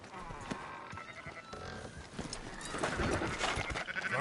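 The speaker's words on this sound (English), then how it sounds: "Fine sheep." Sheep bleat a few times in the video game Red Dead Redemption, over a busy background of farm and game sounds, getting louder in the second half.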